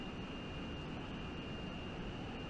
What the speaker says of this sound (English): There's that big ducted engine.